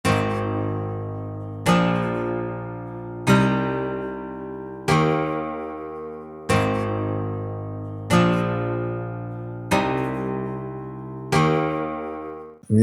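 A vinyl guitar 2.0 synth preset in a pop track, eight bright plucked chords struck at a steady, even pace, each decaying quickly before the next, close and alone.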